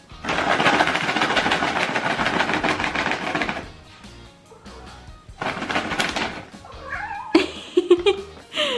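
Several house cats meow and caterwaul loudly near the listener while a container of treats is shaken, with a long burst of crying, a pause, then more meows and a few sharper calls.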